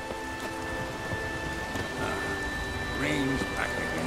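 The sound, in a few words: rain and thunder in video game Witcher 3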